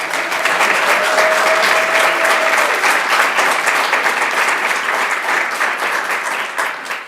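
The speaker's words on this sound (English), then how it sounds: "let's give a huge round of applause to our three-time Texas State Girls Wrestling Champions, the phenomenal Lady Troopers" A crowd at a school board meeting gives a loud, sustained round of applause for a girls' wrestling state championship team, with steady dense clapping and a brief whistle early on before it slowly tapers.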